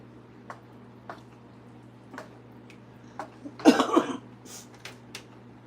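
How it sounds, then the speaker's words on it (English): A person suffering from a harsh lingering cough lets out a short, close coughing burst midway, set against a quiet room with a low steady hum and faint ticking clicks. "this cough has been absolutely horrible"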